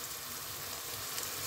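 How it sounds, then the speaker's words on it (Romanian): Onion and carrot fry in a pan for a bean soup, giving a faint, steady sizzle with no talking. "lăsa totul la prăjit timp de câteva minute. După ce am prăjit timp de 1 minut, 2 ceapa și morcovul"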